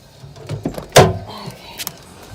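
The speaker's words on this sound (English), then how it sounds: "Guess I'll roll the window down to open the door." Hand-cranked window on an old stick-shift farm truck being rolled down, heard as a few short mechanical squeaks and rubs followed by a sharp louder clunk, then a couple of fainter knocks, close up with no talking.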